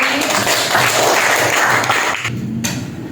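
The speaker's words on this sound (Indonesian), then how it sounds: "Oke, tepuk tangan dulu untuk Azizi." A classroom of high school students claps for a classmate, a loud dense burst of applause close by that tapers off near the end, followed by a couple of stray claps.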